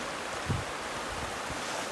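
River water flows at Shepaug Crossing Preserve in Washington, Connecticut, with a steady, close rushing wash. A few soft low thumps sound over it, with no voices.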